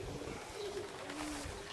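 Soft cooing of racing pigeons returning to their loft drifts in from a short distance, a low throaty call repeated over a faint outdoor background.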